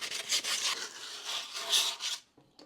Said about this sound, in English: And you sand down the edges.